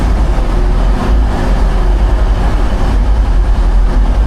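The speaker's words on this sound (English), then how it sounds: "let's get on this train" Steady low rumble of a train in motion, a continuous heavy rolling drone with faint clatter, close and loud throughout, no voices.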